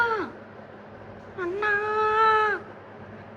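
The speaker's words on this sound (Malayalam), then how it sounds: "ഒരു പൂച്ച കരയുന്നേ" A cat meows in the video game GTA 5, with two drawn-out wailing cries, the second longer and louder, after a short spoken word.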